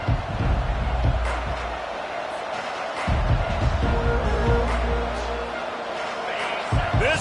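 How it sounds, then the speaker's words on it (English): Stadium crowd roaring steadily through a college football game between Miami and Auburn around the opening kickoff, a loud continuous wash of cheering with a commentator talking over it. "This crowd trying to show them what it's going to be like all day in this house."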